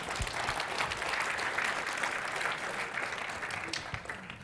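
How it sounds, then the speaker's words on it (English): Audience applause after a talk at the JSConf Iceland 2018 tech conference, a steady dense clapping from a large crowd lasting the whole stretch and fading slightly at the end. "A round of applause, Thank you. please."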